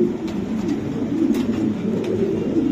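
Large pigeons of fancy breeds coo in low, steady, rolling murmurs close by, continuous throughout with faint background clicks and no speech.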